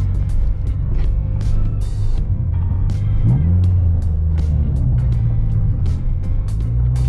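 A 2019 Honda Brio Satya 1.2 manual hatchback accelerating during a speed run. Its engine gives a steady, close, loud drone throughout, with a rising pitch sweep near the middle and constant road and wind rumble underneath.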